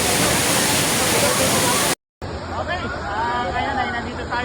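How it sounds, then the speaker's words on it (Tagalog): Ditumabo Mother Falls in San Luis, Aurora, roars as a dense, loud broadband wash of falling water, cut by a brief dropout, then resuming slightly softer with voices chattering over the steady rush. "Kaya ito yung pinakamagandang falls. Dito sa San Luis, Aurora Province."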